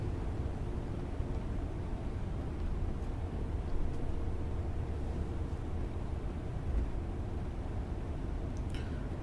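A Class 68 locomotive brakes on the Edinburgh to Glasgow line in Train Sim 2019 as it approaches Linlithgow. A steady, low, rumbling drone holds evenly throughout, with no voices.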